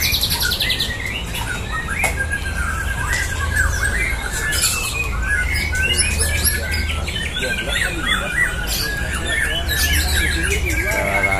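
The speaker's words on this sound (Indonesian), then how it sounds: "Sudah pertarungan burung murai batu." White-rumped shama birds squawk and chirp in a fight, with rapid, harsh bursts and scattered tweets, loud and close over a noisy background.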